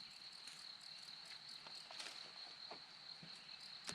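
Crickets chirp at daybreak in a Georgia campsite, a faint, steady high trill running throughout with a few soft rustles nearby.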